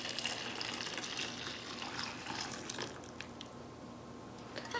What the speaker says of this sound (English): now we're going to pour our soap into a separate bowl